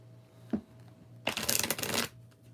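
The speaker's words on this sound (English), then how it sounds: "Do a shuffle." A deck of tarot-style reading cards shuffled by hand during a live reading, a soft tap followed by a dense rapid riffle of flicking cards lasting under a second, close and clear.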